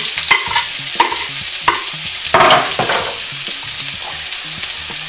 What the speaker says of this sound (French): On va faire dorer nos échalotes